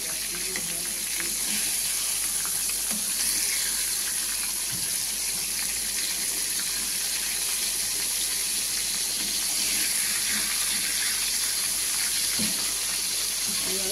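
Lotte fish pakoras fry slowly in hot oil after being turned, making a continuous, dense, close sizzle that holds steady throughout with only faint background sounds.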